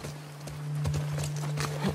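Horse hooves clop in an uneven rhythm in The Last of Us Part 2, against a steady low hum, with a few sharper knocks standing out near the end.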